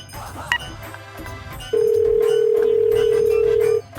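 A short electronic beep, then a loud steady telephone tone holds for about two seconds before cutting off.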